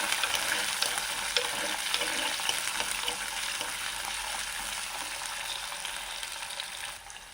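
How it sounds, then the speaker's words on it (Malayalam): Garlic cloves and cut green chili sizzle steadily in a pan for a tomato curry, with light stirring rustles over the frying hiss, which eases slightly at the end. "അപ്പോൾ വെളുത്തുള്ളി പച്ചമുളകും ജസ്റ്റ് ഒന്ന് ഇളക്കി കൊടുത്തതിന് ശേഷം"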